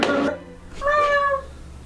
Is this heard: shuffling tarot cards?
no